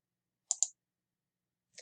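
A computer mouse clicks twice in quick succession, then once more after a short pause, crisp and close in otherwise silent surroundings.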